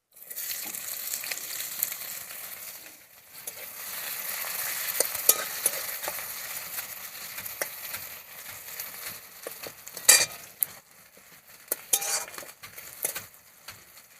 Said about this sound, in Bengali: আমি কড়াই তেল দিয়ে দেবো, দিয়ে দেবো কুচনো পেঁয়াজ